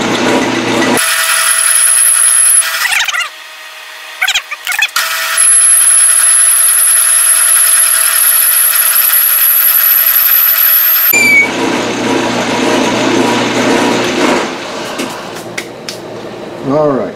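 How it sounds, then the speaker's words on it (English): A power tool whines loudly and steadily as it cuts a metal washer, holding a high sustained tone for several seconds before dropping to rougher grinding and clatter toward the end. "I'm going to try to cut it 85 thousandths thick."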